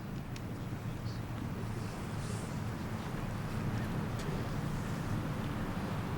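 Steady wind buffeting across an outdoor golf course, a continuous low rumble of gusts against the microphone, constant and moderately loud with no talk over it.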